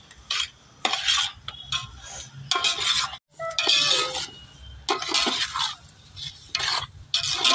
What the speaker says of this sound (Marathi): रवा शेकत आलाय